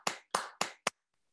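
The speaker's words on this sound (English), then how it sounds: "Let's give Donette a round of applause" Four sharp, isolated hand claps ring out in a quick, slightly uneven run and then stop, close and clear against near silence, more like a single person than a full audience applauding at an award celebration.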